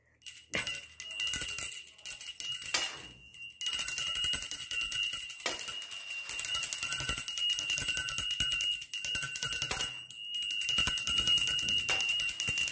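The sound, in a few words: hand bell being rung continuously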